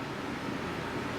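A kitchen exhaust fan runs over the stove right after the gas is turned off beneath a simmering cod fish curry, giving a steady, even whoosh of airflow throughout the short stretch, with no speech.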